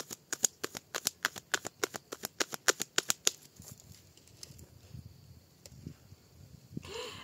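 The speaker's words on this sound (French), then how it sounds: "je faisais une coupe en fait" Tarot cards being shuffled, a rapid even series of crisp riffling snaps up close for about three seconds, then softer card handling and faint rustles.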